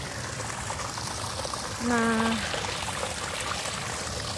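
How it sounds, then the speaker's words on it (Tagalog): Water flows steadily from the spring feeding the lake in Vienna's Stadtpark, a continuous rushing wash with a voice briefly heard over it. "ito siya, yung pinanggalingan ng tubig"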